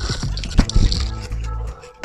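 Hand sanding of paint-stripped, rusty steel with 180-grit sandpaper on a block: close, rough scraping strokes with a busy, uneven rhythm, loudest around the middle.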